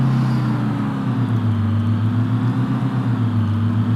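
A souped-up car engine in Farming Simulator 25 drones steadily at a low, even pitch, loud and continuous with no talk.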